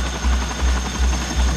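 A CH-47 Chinook tandem-rotor helicopter gives off a steady, rhythmic low thumping of its rotor blades, about four even beats in under two seconds, over a constant engine whine. The sound is close and fairly loud, with no voices.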